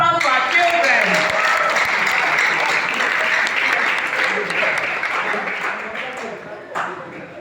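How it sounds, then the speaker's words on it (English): Sustained applause from an audience cheering children at a school debate, a dense wash of many hands that holds steady for about seven seconds and tapers slightly near the end, with a few voices mixed in. "Please, a round of applause for our children."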